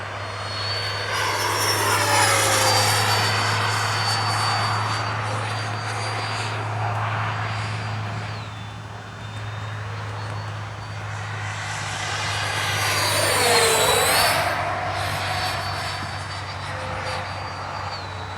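A Freewing 90mm F-22 radio-controlled jet with a KM afterburner flies past outdoors in the evening, its loud, steady turbine roar swelling and fading twice with a high whine over a constant low hum.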